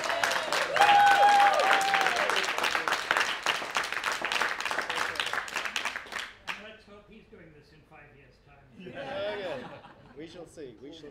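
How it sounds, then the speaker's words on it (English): Conference audience warmly applauding an expert panel and speakers: dense clapping mixed with chuckles and a whistle-like tone, fading out after six seconds into quiet room noise and brief speech. "Please give them a very warm round of applause"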